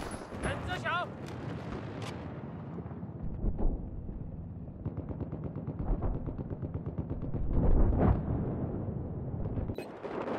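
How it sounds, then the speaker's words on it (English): Rapid gunfire from the Battlefield 4 video game, dense bursts of automatic fire mixed with heavier booms, running steadily throughout with voices talking over it. "I'm getting shot at!"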